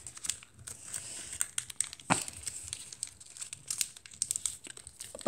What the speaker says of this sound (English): fold this to this crease right here